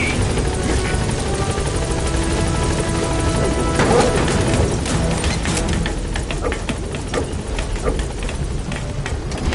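Helicopter flying in the video game Metal Gear Solid V: The Phantom Pain, a loud, steady rotor roar that fills the whole stretch without pause, with scattered crackling impacts layered over it.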